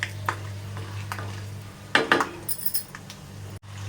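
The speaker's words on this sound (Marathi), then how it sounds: "असे परतून घ्या शेंगदाणे" Peanuts are stirred and roasted in a pan, giving faint scattered clinks and scrapes of a spoon against metal over a low steady hum.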